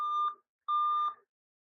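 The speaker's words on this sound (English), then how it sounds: "And now it's flipping out, beeping at me." Alienware gaming laptop beeping after a CPU fan failure: two sharp, high electronic beeps about half a second apart, clear and close.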